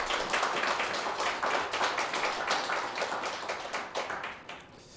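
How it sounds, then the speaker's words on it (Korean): A Sunday church congregation gives a brisk round of hand clapping, many claps overlapping in a steady rhythm before tapering off near the end, with no talking over it. "우리 하나님께 감사와 영광의 박수 올려드리겠습니다"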